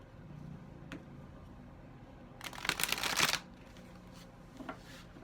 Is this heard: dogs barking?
no